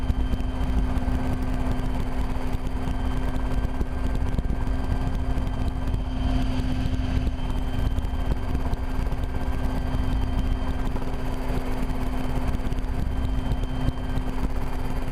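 A Rotorway kit helicopter flies and maneuvers on a river run, its rotor and engine making a loud, constant droning thrum from inside the cabin throughout, with no voices heard.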